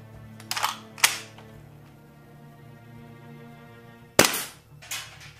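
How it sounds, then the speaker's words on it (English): WE PDW airsoft gun fired during a chronograph FPS test: three sharp, snappy pops spaced apart, the first two close together and the last after a long pause, each loud and close with a brief rattling tail. "So what we're going to do now is check the FPS and see what she's shooting at."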